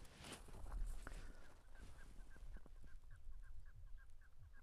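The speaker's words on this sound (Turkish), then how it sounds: "Ne güzel keklik ötüyor arkadaşlar." A partridge calls repeatedly in a steady rhythm, moderately distant, over a soft outdoor background hiss in an orchard.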